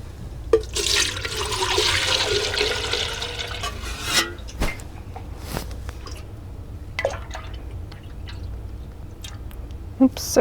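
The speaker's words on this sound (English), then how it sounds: "Oops, I poured too much." Liquid candle wax poured from a pitcher, a steady close trickling and splashing stream for a few seconds, followed by scattered drips and small clinks.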